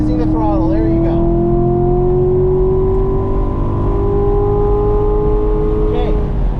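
A race car at the Burt Brothers Motorpark East Track drones loudly as its engine pitch climbs steadily under throttle, with a rising whine and someone talking over it.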